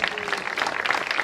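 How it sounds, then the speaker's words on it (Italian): Dense, steady applause from an audience welcoming a performer at an opening ceremony in Venosa fills a short stretch, with many hands clapping at once and no pauses. "Accogliamo con un forte applauso Fausto Iacoviello"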